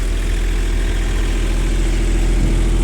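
A Japanese mini excavator with a 0.04 cubic metre bucket runs with a loud, steady, even engine drone close up, with no break in the rumble.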